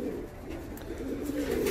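Malwai pigeons eating grit give a soft, continuous low cooing that carries close and steady through a short moment, with no voices over it.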